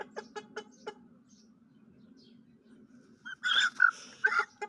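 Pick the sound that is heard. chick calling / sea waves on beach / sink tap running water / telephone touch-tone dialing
chick calling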